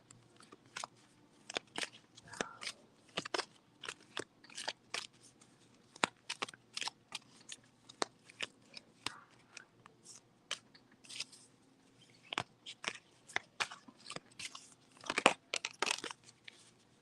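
Oracle cards shuffled by hand in a love reading, a steady run of crisp riffling snaps and soft card slides, close and fairly quiet, continuing with brief pauses.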